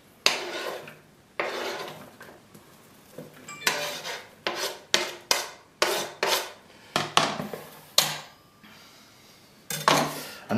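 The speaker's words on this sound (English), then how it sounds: "And I'm adding this to the rest of the onions" Repeated scraping and clattering as chopped onions are pushed from a board into a bowl of onions, a dozen or so short knocks and rasps at an irregular rhythm, close and fairly loud.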